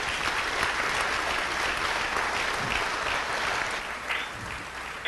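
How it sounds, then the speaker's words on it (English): Applause at a city council meeting, a moderate steady patter of hands from a modest audience in a chamber, even and continuous before thinning out near the end. "let's give them a round of applause for being here today"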